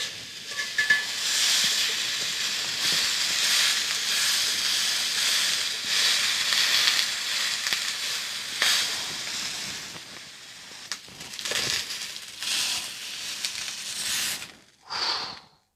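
Steak sears in a very hot pan, a loud, steady hissing sizzle that runs continuously up close, briefly dipping and flaring near the end as the meat is moved.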